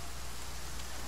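Steady rain in the survival video game The Flame in the Flood, a dense, even wash of falling drops, moderately loud and continuous with no voices.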